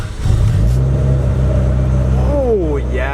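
A widebody Honda Civic's engine hums and rises steadily as the car pulls away, close and fairly loud, with a brief squeal near the end and a person's voice faintly mixed in.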